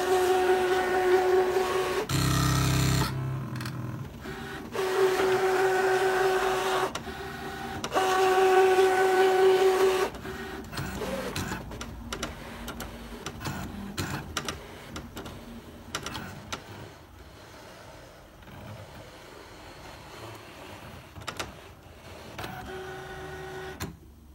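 Brother ScanNCut DX cutting machine working with its roll feeder, giving off whirring motor tones and short mechanical buzzes that alternate with quieter stretches of soft clicking and shuffling.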